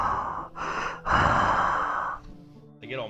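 A voice imitates heavy breathing: a few loud, close, drawn-out breaths, heavy exhales and gasps in quick succession, ending in a short vocal sound.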